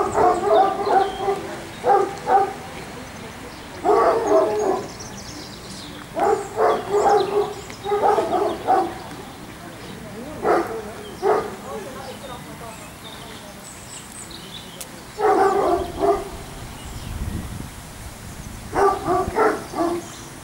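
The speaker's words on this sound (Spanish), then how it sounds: "Los perros de caza, al igual que en el siglo XVII, llevan la persecución en las cacerías." A large pack of more than a hundred hunting hounds at the Cheverny kennels in France barks and bays in repeated loud bursts, with quieter gaps between them and a voice talking over parts of it.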